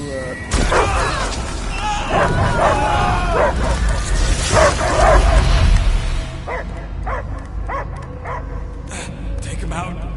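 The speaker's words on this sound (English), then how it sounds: "I hear only barking." A dog barking and yelping in the Guardians of the Galaxy video game, several close, sharp barks and whimpers, partly under game dialogue and music.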